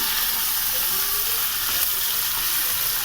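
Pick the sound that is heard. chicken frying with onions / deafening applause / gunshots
chicken frying with onions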